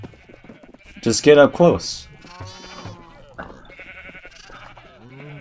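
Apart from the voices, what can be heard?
black sheep bleating in Minecraft video game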